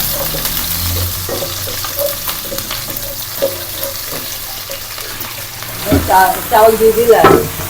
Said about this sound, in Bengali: হ্যাঁ চাউল দিয়ে দিলাম এখানে সব রকম মশলা দিয়ে দিলাম এখন পাঁচ মিনিটের মতো ভেজে নেব সুন্দর করে